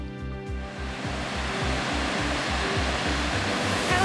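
Waterfall in Italy heard up close as a loud, unbroken roar of falling water, with rhythmic low buffeting thumps underneath. No one speaks.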